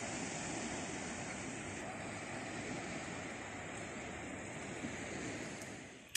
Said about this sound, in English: This is Khao Tao Beach in the evening, just down the road from Hua Hin.